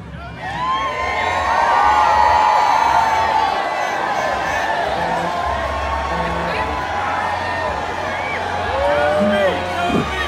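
Crowd at a New Year's Eve sign drop celebration in Hattiesburg cheers and whoops loudly, with shouts and whistles rising over a steady babble of voices and a low amplified hum.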